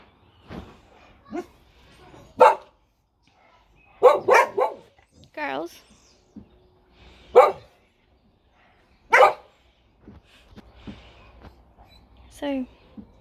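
Several dogs bark in scattered bursts, some sharp single barks and some quick doubled yips, fairly close, with quiet pauses between.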